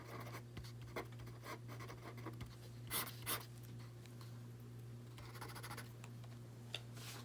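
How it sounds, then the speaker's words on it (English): Writing on a board during a physics lesson, faint scratchy strokes and taps in irregular bursts over a steady low electrical hum, with no talking. "Let me write it again."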